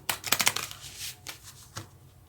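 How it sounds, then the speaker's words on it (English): Divine Doors oracle cards shuffled by hand up close, a quick burst of crisp riffling flutters followed by a few softer slides and taps, with no talking. "And I wanted to shuffle them in front of you."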